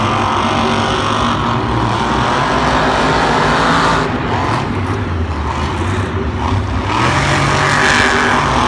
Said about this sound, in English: Very close race going to the final jump, but Jimmy Creedon and Bounty Hunters taking